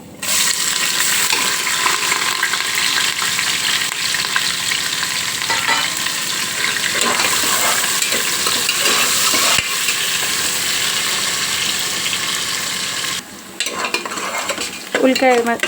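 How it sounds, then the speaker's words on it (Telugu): Sliced onions fry in hot oil for a Telangana goat-head curry, a steady loud sizzle with scraping stirs throughout that drops briefly near the end before resuming. "ఉల్లిపాయ మంచిగా గోల్డెన్ బ్రౌన్ కలర్కి వచ్చింది కదా"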